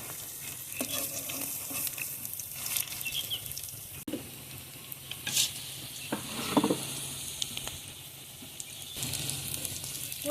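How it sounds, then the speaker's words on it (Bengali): Cabbage pakoras deep frying in hot oil, a steady close sizzle with occasional louder crackling bursts and stirring, no talking. "উল্টে পাল্টে লাল লাল করে ভেজে নেব।"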